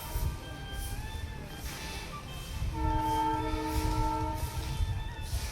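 A toy train on a hillside mountain railway sounds its horn, a sustained multi-tone blast rising over steady rumbling rail and wind noise heard from a viewpoint above.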